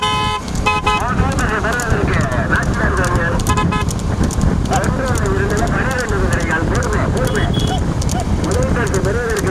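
Racehorses thunder past at a village horse race with a prize purse, hooves clattering beneath loud, continuous commentary and a noisy crowd, with occasional horn toots.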